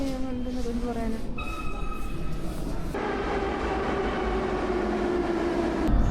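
An underground metro train in Uzbekistan rumbles steadily through a station or tunnel, with sustained loud mechanical noise and rising and falling whine tones. The sound holds close and continuous throughout.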